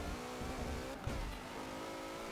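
A 1994 Ferrari F355 Berlinetta engine accelerating in Forza Motorsport 7: a loud, high, steady engine note climbing in pitch, with a short shift-like break partway through, heard alone without talk.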